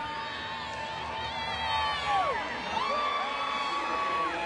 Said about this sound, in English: That's an enthusiastic crowd for you on singles night at Turner Field